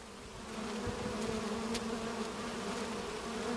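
Honeybees buzz around an open hive while its frames are pulled out, producing a steady, close, droning hum that holds evenly throughout, with no voices.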